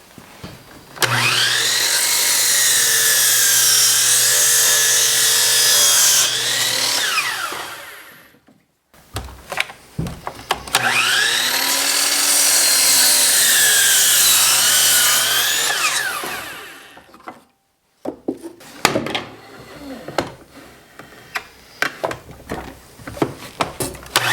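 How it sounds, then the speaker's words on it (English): A chop saw cuts angles in wood in two loud passes, each a high whine that spins up, holds for several seconds, then winds down, followed by clattering as wood pieces are handled nearby. "So I'm going to go over to the chop saw and cut these angles."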